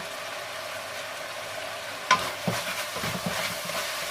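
Vegetables are stir-fried in a pan with a steady close sizzle, and a few sharp scrapes and clatters of the spatula against the pan come in over the second half.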